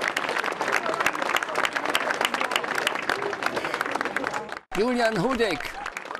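A crowd applauds FSV Zwickau football players with loud, continuous clapping for several seconds. The clapping cuts off briefly, and then a voice talks over the resuming applause.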